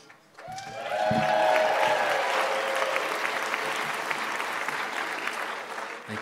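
Audience applause fills an evening welcome at the 2017 Wisconsin Film Festival, swelling quickly into sustained, dense clapping from a large crowd that holds steady for several seconds, with a faint tonal murmur early on.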